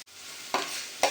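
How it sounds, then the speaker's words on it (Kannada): Something frying in a pan for a chicken dish, a brief close hiss of sizzle punctuated by two quick scraping stirs, with no one speaking. "ಸೊ ಇದು ಒಂಚೂರು ರೆಡ್ ಆಗೋವರೆಗೂ ಫ್ರೈ ಮಾಡ್ಕೊಳ್ಳೋಣ ಇದನ್ನು."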